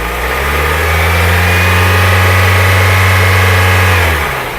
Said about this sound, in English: So let's give it a quick little rev